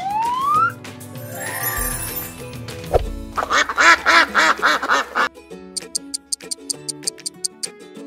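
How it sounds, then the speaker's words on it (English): A duck quacks in a quick run of nasal calls over a plucky musical backing, with electronic tones and ticking before and after. "Duck."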